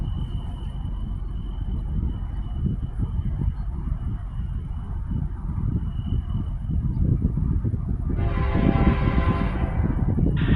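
A CSX G108 freight train led by an orange BNSF locomotive rumbles past at close range, a steady low roar of wheels and rail noise that swells louder toward the end with a hiss of passing cars.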